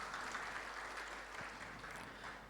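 An audience at a gathering of Indonesian museums claps in steady, faint, distant applause that fills the room and slowly tapers off.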